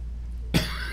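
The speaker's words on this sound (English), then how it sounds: "Excuse me if I'm coughing today." A single sharp cough breaks in after a near-silent pause with a low steady hum beneath, then fades into the background hum.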